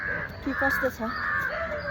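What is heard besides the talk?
birds calling outdoors in the early morning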